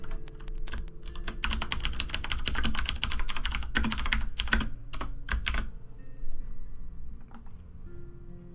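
Typing a note on a computer keyboard: quick, uneven clusters of close key clicks in bursts, thinning out toward the end.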